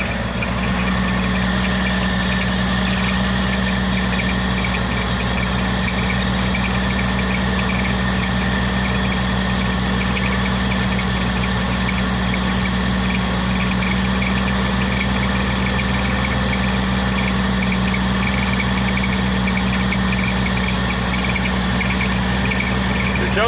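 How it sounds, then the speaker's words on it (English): Car engine idling steadily with a fast rattling chatter from the power steering or alternator, loud, close and unbroken for the whole stretch. "Don't know if that's power steering or that's the alternator chattering."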